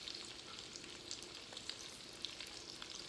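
Smoked sausage and cabbage brown in a pan, giving a faint but steady close sizzle with small crackling pops throughout.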